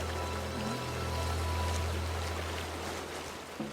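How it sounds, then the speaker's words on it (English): A small, unimpressive waterfall stream on a hike pours steadily in a dense, continuous wash of rushing water, close and even throughout with no voices. "We eventually did find the waterfall,"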